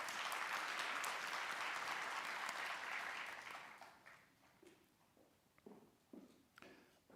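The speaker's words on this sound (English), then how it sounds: "Round of applause for Miss Ari Beth." Graduates' audience claps at a hooding ceremony, dense applause that runs for several seconds then thins into scattered, separate claps and a few last hands near the end.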